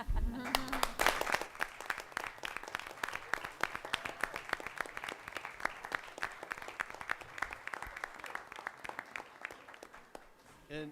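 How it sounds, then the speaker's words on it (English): Audience at a Mason Board of Education meeting applauding parents, a sustained round of dense clapping from a seated crowd in a meeting room, holding steady for about ten seconds before trailing off. "we'll give a little round of applause for them"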